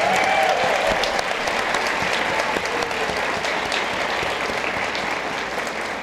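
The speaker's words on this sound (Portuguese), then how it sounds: "eu queria pedir uma salva de palmas para todos os voluntários" Applause from an event audience for the volunteers, dense and steady, filling the room for about six seconds and fading slightly toward the end, with no speech over it.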